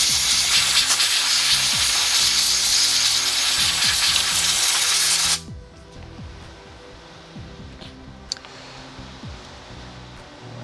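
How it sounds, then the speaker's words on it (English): Compressed air blasting a circuit board dry while repairing a KSGER T12 soldering station, a loud hissing rush for about five seconds, then cutting off to a quiet background with a couple of faint short bursts. "a bit of compressed air to dry things out."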